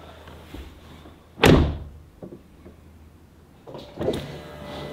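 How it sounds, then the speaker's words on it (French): Range Rover Sport car door closing: one sharp, loud thud, then quieter clicks and knocks and a second softer shut, with a low background hum and no talk. "Il faut fermer la porte."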